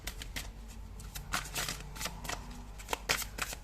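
Tarot cards are shuffled by hand in a quick run of crisp riffling bursts and soft flicks, close and clear, with no talking.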